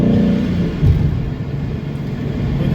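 A supercharged 2011 Ford Mustang GT 5.0 drives along with a steady low engine rumble and road drone, a brief surge near the start, then an even, close cabin hum throughout.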